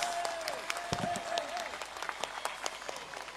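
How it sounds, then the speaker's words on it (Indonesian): Crowd applause at a National Santri Day ceremonial assembly, dense clapping from many people filling the space, with a brief whistle-like tone and faint voices mixed in under the steady clapping. "Tepuk tangan untuk Gus Yusuf yang keras."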